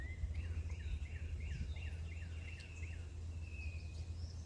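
Quiet jungle gardens on Avery Island, Louisiana, where a run of quick, chirping bird calls rises over a steady low wind rumble and faint rustling leaves.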